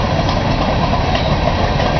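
A passing train makes a loud, steady rumble and rolling rattle of wheels on rails, continuous and close, with no talking.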